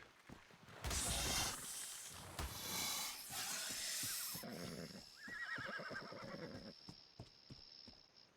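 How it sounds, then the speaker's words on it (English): Horse neighing loudly in a video game, a long whinny with breathy snorts and rustling around it, followed by shorter whinnies and a steady high electronic tone near the end. "Now chasing the horse."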